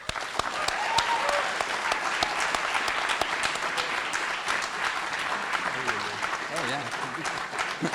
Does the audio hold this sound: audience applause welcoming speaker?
yes